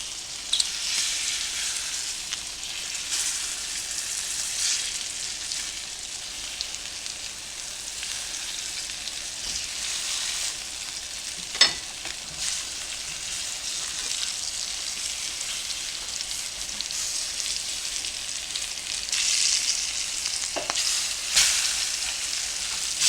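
Flour-coated pork chops frying in a pan, a steady bright sizzle and crackle that holds up close throughout, with a few sharper pops and spatters along the way and no voices.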